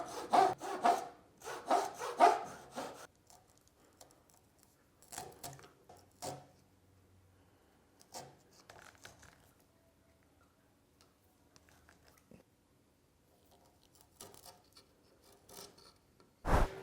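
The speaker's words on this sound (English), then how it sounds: "And carefully chisel back to these lines here as well." Wood is pared back to marked lines with a hand chisel, clusters of sharp scraping cuts at the start, then sparse lighter taps and scrapes spread across long quiet gaps, close by.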